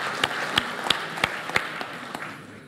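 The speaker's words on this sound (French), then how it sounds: "Je crois qu'on peut l'applaudir" Guests at the opening ceremony of a watchmaking heritage biennale applaud, a moderate spread of clapping with distinct sharp claps in a steady rhythm that slowly fades.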